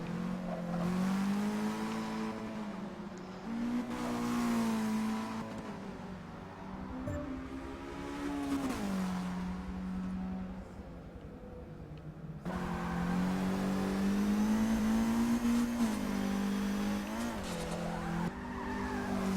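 Race car engine heard onboard during the 12 Hours of Nürburgring, loud and continuous, its pitch rising through the gears and dropping on shifts, with a brief tire skid.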